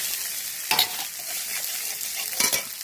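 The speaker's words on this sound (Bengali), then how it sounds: "এবার বটবটি আর পেঁয়াজটাকে আমি ভেজে নেব।" Broad beans and chopped onion fry in hot oil in a pan over a stove, a steady close hiss with two brief scraping stirs breaking through.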